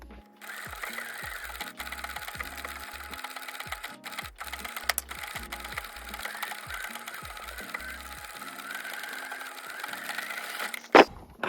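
A sewing machine stitches scrap fabric for a crescent bag, running in a close, rapid mechanical chatter in several bursts with short pauses between them.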